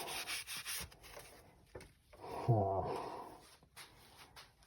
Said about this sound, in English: Just sand it up a little bit.